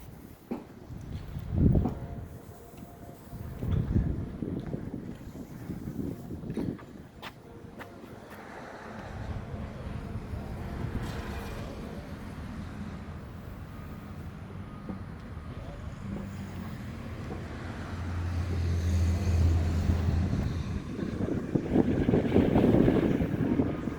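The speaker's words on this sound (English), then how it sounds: "A lot of wind out here." Wind blowing into a microphone outdoors, a steady, low, rumbling buffet that builds and grows louder over time, with brief voices heard near the start.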